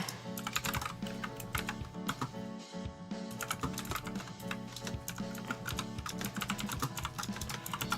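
Continuous rapid typing on a computer keyboard, dense overlapping key clicks with a brief pause near the middle, close and fairly loud over a steady low hum.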